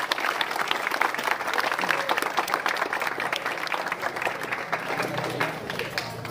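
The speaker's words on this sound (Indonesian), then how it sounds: "Tepuk tangannya untuk kita." Audience applause at a pencak silat gathering in Jember: a dense, continuous burst of many hands clapping, sustained throughout, with voices mixed in underneath.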